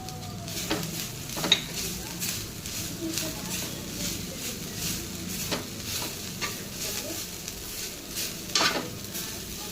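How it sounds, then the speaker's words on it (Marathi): Kasuri methi being dry-roasted in chicken masala with grated coconut, the gas switched off, giving soft stirring scrapes and light sizzling, with occasional sharper clinks of a spoon against the pan over a steady low hiss. "ही कसुरी मेथी सुद्धा यातच भाजून घेऊया."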